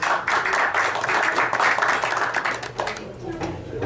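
Members at a Rotary Club meeting applaud guests and visitors, a loud, close burst of clapping that carries on for a few seconds and then thins toward the end.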